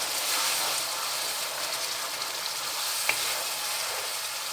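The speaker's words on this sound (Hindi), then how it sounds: "3 से 4 मिनट तक भूनेंगे अच्छी तरह से।" Whole spices and masala (curry leaves, green and black cardamom, a cinnamon piece) sizzling steadily in oil in a pan for Lahori-style chickar chole, a continuous hiss with a brief clink midway.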